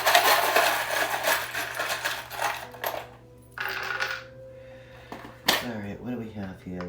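Small metal charms, among them a cross, a bell, stars, a butterfly and a moon, are handled and jostled together, making dense close clinking and rattling with a few sharper chinks, while a voice talks faintly over part of it.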